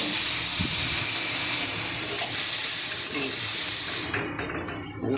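Water is poured into a hot kadai of spiced tomato curry over low gas, giving a loud steaming hiss and splashing that fades away near the end.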